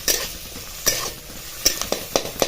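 Onion sautéing in a pan for a Maharashtrian bazar amti, with quiet frying noise broken by several sharp scrapes and clinks as a spoon stirs, recorded close and without talk.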